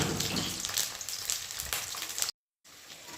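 Potatoes fry in a pan without salt or turmeric, giving a bright, dense sizzle that stays steady and close. It drops out for a moment and then returns more quietly.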